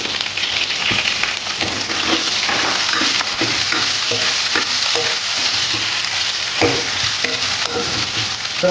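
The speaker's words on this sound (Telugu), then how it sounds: "ఇప్పుడు ఈ ఉల్లిపాయలు వేసేద్దాం" Onions, curry leaves and green chillies fry in hot oil for sambar, a steady close sizzle with occasional stirring scrapes running throughout, no voices.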